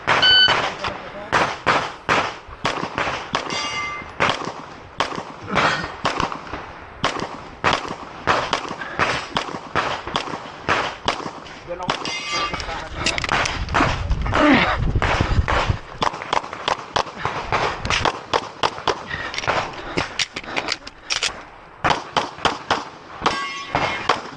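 Rapid pistol shots ring out against steel targets during a speed-shooting stage, a dense string of loud cracks and metallic clangs. Brief pauses break the string, and voices are heard between the shots.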